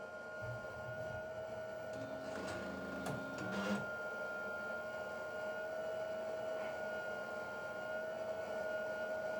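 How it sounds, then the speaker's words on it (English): A home printer warming up during an indoor livestream, with steady mechanical whirring and hum and a brief louder grinding burst near the start, holding on continuously with no voices. "my printer's warming up."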